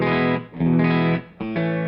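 Sustained electric guitar chords through a VOX Valve Energy Nutube compressor pedal on its vintage setting, smooth and slightly driven, played in a few strummed phrases with brief dips between them.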